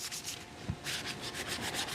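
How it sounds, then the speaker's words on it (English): A wooden spoon being hand sanded with 220 grit sandpaper, giving steady rapid rubbing strokes in a continuous scratchy rhythm with one brief low bump partway through, close and moderately loud with no talking. "now I'm going to switch to my 220, and I'm no longer shaping"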